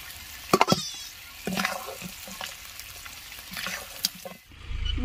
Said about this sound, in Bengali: মাছের মাথাটা আমি ভালো করে ভেজে নিয়েছি, এবার এটাকে তুলে নিব।